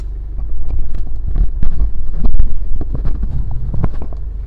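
A Honda CR-V engine turning over and idling, a steady low rumble that swells slightly after the start, heard close up and mixed with wind buffeting against the microphone.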